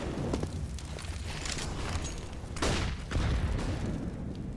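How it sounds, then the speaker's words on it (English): Grenade exchanges in Counter-Strike on the Dust 2 map during a tournament match, rumbling low explosions and scattered pops over dense, continuous game noise, with a couple of louder blasts toward the end. "Nades being exchanged"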